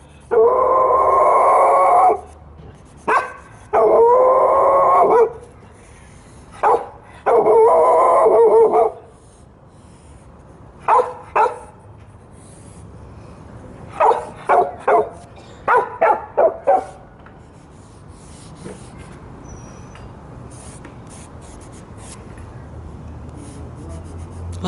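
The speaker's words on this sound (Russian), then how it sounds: "Вот такие собаки, настоящие собаки, да? Подошла, нагавкала." A dog barks outdoors in a city street in several loud bursts, then sharp single and clustered barks, leaving a quiet background hum afterward.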